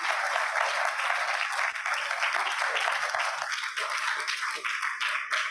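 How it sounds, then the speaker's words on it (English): Crowd at a comedy night claps warmly, a close, continuous patter of many hands that holds steady for a few seconds with some scattered cheering mixed in. "Let's give a good round of applause."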